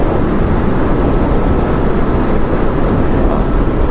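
Loud, constant wind buffets the microphone while a 2019 motorcycle is ridden on a gusty day, producing a dense roaring rumble with no pauses and no speech.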